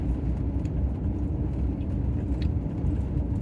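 A car driving on a road on a foggy morning in Southwest Texas gives off a steady, even low rumble of engine and tire noise from inside the vehicle, with no talk over it.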